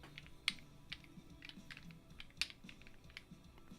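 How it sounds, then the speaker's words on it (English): A clicky fidget toy snaps with sharp, quiet clicks at irregular intervals, with several brighter clicks standing out against a low background hum; no one speaks. "Got this fidget. Very clicky clacky."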